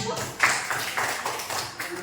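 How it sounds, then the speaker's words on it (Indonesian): A classroom group claps for the first group of students, a short burst of uneven hand claps with voices and chatter mixed in over two seconds. "Tepuk tangan dulu untuk kelompok 1"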